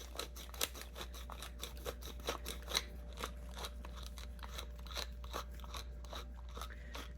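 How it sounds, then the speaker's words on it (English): A hand pepper grinder cracks whole black peppercorns for keto fried chicken, giving a long run of dry, crunchy grinding clicks in quick, uneven bursts, close and fairly quiet, with no talking. "I'm out of my already ground pepper, so we're gonna have to grind some"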